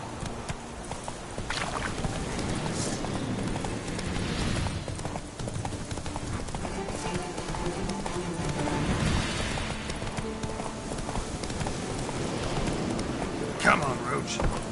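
Hooves of Roach, a horse in The Witcher 3 video game, clip-clop steadily throughout at a gallop, mixed with game ambience and a voice talking over it.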